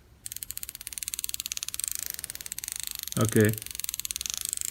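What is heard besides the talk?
drag of a Daiwa Ryoga 1520 CC fishing reel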